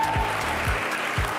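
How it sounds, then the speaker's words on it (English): A studio audience at the Cowbellpedia 2025 televised quiz show applauds its contestants with steady, dense clapping and a few low thumps, held at an even level throughout. "A huge round of applause for all our contestants today."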